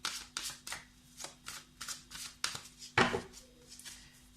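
Tarot cards riffled and shuffled in a quick series of soft papery bursts, ending in a louder snap as one card is drawn, close and alone with no talk.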